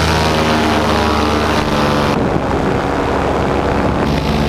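A small airplane engine drones loudly and continuously in the cabin during a bumpy low pass over a racetrack, with heavy wind rush and a shift in tone partway through as the engine note changes.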